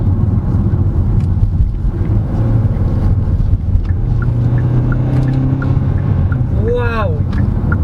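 A 2023 Hyundai Tucson in sport mode accelerates hard with a loud, steady low engine drone and road and wind noise, while people talk over it inside the cabin.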